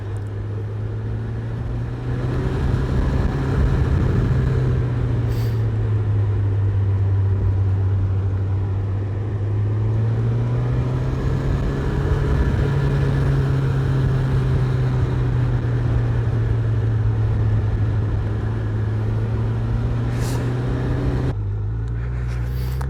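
Suzuki Hayabusa 1300 motorcycle descending a Carpathian mountain serpentine, a steady loud engine drone with slowly shifting pitch and wind rush, continuous for the whole stretch, a brief shift near the end.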